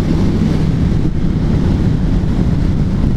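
Wind roars steadily against a rider on a Triumph Street Twin motorcycle, which has no wind protection, a loud, close, unbroken rumble with one brief dip.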